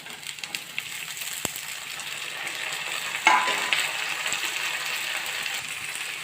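Capsicum pieces frying with onions in a pan give an even, continuous sizzle with a soft thud as they drop in and light stirring scrapes, close by and steady throughout.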